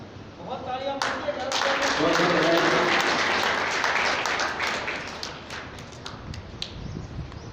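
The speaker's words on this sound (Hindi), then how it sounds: "बहुत तालियां" Audience applause at an International Girl Child Day event breaks out after a girl is called up, swelling into steady clapping for several seconds and then thinning out.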